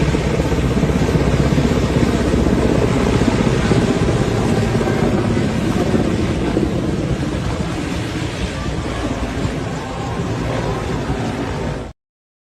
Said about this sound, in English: they're going to use plane, they fly there